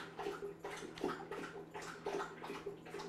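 A dog laps water in quick rhythmic bursts, wet splashy slurps repeating roughly every half second, close and fairly quiet.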